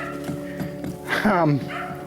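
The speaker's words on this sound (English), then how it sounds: "sorry for the barking dogs" Dogs near a log cabin under restoration let out close, loud yips and a rising whiny bark over a steady low drone.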